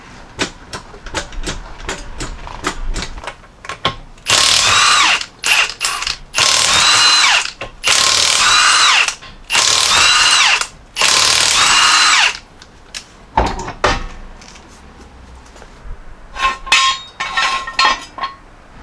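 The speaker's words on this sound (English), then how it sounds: "First thing we got to do is jack it up from this corner, take off the wheel" Lug nuts come off a Jeep Grand Cherokee (2016–2021) wheel in five loud, rapid power-tool bursts, separated by short pauses and followed by quieter clanks and ratcheting.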